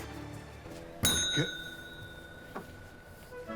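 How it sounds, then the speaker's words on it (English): A hotel check-in desk bell is struck once, giving a bright metallic ding that rings on and fades over a couple of seconds, with a fainter tap afterward in a quiet room. "You don't need to ring that bell."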